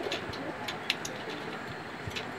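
An Afsan grizzle racing homer cock pigeon coos softly in a loft, a few low murmuring calls among faint clicks and background noise, with no speech.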